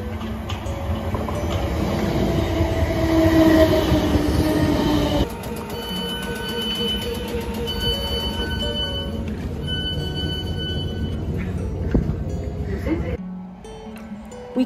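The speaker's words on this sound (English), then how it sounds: "We caught a train to Kensington Olympia" A London train heading to Kensington Olympia gives a steady loud rumble with some squealing, then quietens to a lower interior drone, with voices talking over it.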